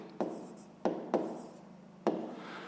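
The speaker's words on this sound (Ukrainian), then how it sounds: "Записуємо перший спосіб." Pen writing out a solution to a fifth-grade math problem, close and quiet, with four short scratchy strokes each trailing off into softer scribbling, no talk.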